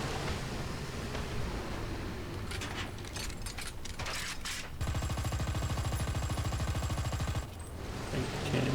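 Rapid mechanical gunfire in War Thunder during a Tiger 1 heavy tank battle, with a dense machine-gun burst from about five to seven and a half seconds amid rattling, clanking tank noise and other scattered shots.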